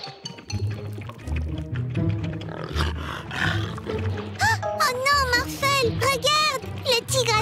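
A cartoon tiger roars loudly in an animated children's show, a long rumbling growl that builds up, followed by shrill, wavering cries over a music bed.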